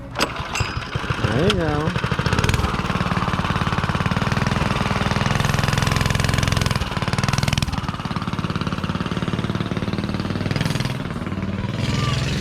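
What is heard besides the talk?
homemade minibike engine starting and running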